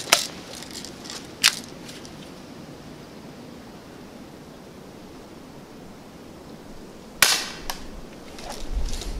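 Two sharp pops from a Daisy Powerline 35 pump air rifle, one near the start and another about six seconds later, each brief and crisp outdoors with faint ambient noise between.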